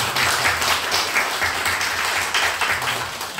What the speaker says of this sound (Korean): 우리 환영의 박수 한번 할까요?